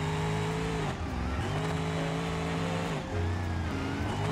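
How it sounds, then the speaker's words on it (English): Supercharged engine of a high-powered taxi rumbling steadily at close range, with deep low harmonics that dip and rise as the revs shift, loud and continuous without talk. "that supercharger. Just rumbling."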